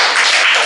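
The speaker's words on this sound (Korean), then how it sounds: "다시 한 박수 한번 보내주세요" Audience applause at a Korean youth leadership academy lecture, a brief dense wash of clapping from many hands, loud and close.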